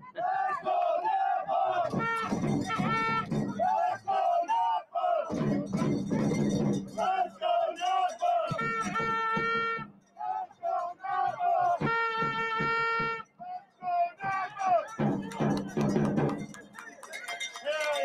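Football supporters at a St. John's FC versus Napa Valley 1839 FC national round of 16 match chanting loudly in rhythmic bursts, sustained crowd voices rising and falling across the stands with brief pauses between chants.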